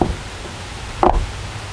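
A single solid thump as a Toyota Camry car door shuts, short and fairly close over a steady background hiss, with no talk.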